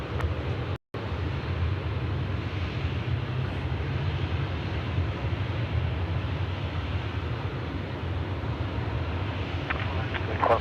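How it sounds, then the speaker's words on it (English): A Boeing 777 airliner at Sydney Airport gives off a continuous loud jet engine roar that stays steady throughout. The sound has a broad, rumbling character, and no speech is heard over it. "And we have a 777W inbound as well."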